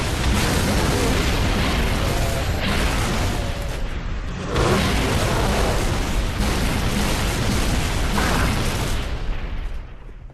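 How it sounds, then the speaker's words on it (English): Rocket launcher explosions against Hunters in Halo 3 ODST on the Coastal Highway, loud, dense booms and bursts one after another with brief whooshes, filling the whole stretch without talk. "just take out the hunters with the rocket launcher"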